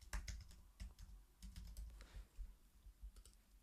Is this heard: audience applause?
no